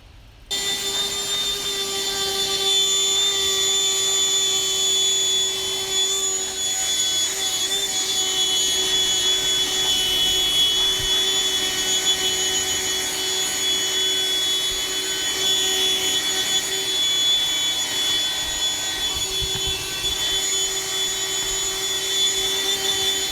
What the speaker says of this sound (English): I'm gonna get my mini vacuum and just vacuum this stuff up